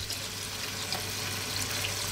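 Water pours steadily into a pot of Filipino chicken pochero, a continuous, even hiss of running liquid with no talk over it.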